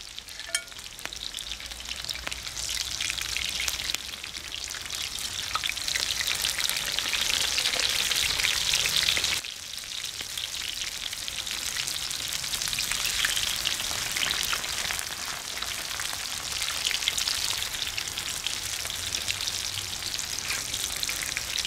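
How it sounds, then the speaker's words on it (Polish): Cutlets frying in hot oil in a pan, giving a loud, continuous sizzle and crackle that holds steady throughout with a brief dip partway, no voices. "Wlałam olej i teraz smażę kotlety."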